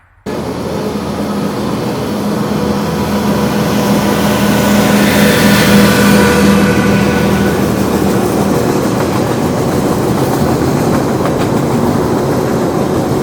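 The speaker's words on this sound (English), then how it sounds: "as you can see, I got stopped by the train" A train rolls past continuously with loud rumbling and rhythmic clatter of wheels, a long unbroken roar that swells in the middle.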